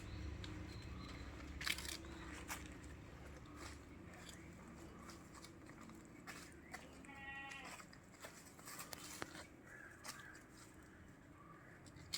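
Goats bleating repeatedly at a distance over a quiet outdoor background, with a few sharp clicks in between.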